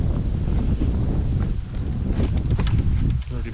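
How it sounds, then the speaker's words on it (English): Strong wind on a blustery day buffets the microphone outdoors with a constant loud roar and gusty rumble throughout. "Pretty bloody windy out here today."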